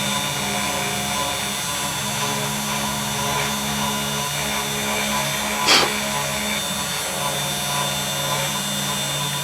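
A 3018 CNC machine engraves aluminum with a steady, fairly quiet mechanical whir and faint tonal hum throughout, broken by one brief sharp click near the middle.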